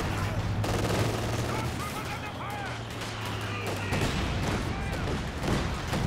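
Mortar fire during a real-time strategy game battle: repeated bursts of gunfire and thumping blasts build a busy, continuous battle din, with a commentator talking over it.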